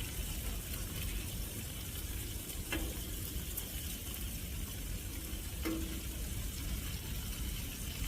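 Bacon sizzles steadily in a pan, a constant crackling fry with a couple of faint clinks.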